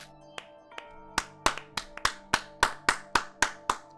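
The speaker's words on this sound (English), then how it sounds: "Me and Mikado are applauding." Applause from characters in the video game Danganronpa Another 2: about a dozen crisp, evenly spaced hand claps, sparse at first and then steady and fairly loud, with no talking.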